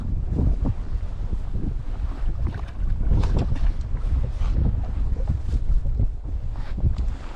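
Strong, gusting wind roars against a fishing boat and buffets the microphone, with low rumbling and water noise throughout and no talking.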